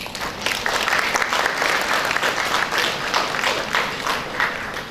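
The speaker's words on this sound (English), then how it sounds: "A big clap for all of you." Audience at a memorial lecture on India's energy transition applauds in a sustained, dense burst of clapping that stays loud and steady throughout.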